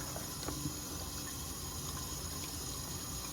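Running tap water rinses silicone molds in a steady, even splashing stream that stays constant and close, with no talking.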